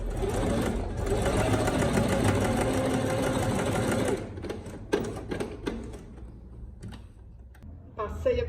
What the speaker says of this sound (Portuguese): Vou costurar toda a volta e deixar só aqui sem costurar.